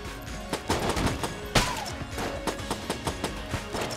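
Rapid gunfire from a fast-firing weapon in the twin-stick shooter Enter the Gungeon, loud sharp bursts repeating in an uneven rhythm with crashes and thuds between shots, no talking.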